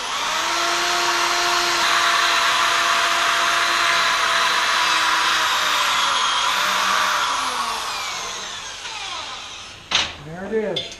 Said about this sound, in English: Now we take our wire brush.